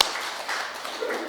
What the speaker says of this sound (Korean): 박수 좀 쳐드립시다